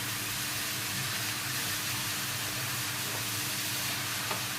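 Minced mutton keema filling for samosas frying with turmeric in a pan over gas, a steady soft sizzle with faint scraping as it is stirred, no voices.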